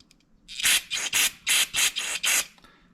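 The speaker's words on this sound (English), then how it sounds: "All right, we're just gonna spray all up on the carburetor." Carb cleaner sprayed onto a jet from a Yamaha TT-R 125 motorcycle carburetor gives six or seven short, loud hissing bursts in quick succession, close to the microphone, with no talking.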